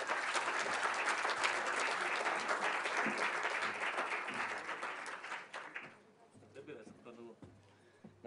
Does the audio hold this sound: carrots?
no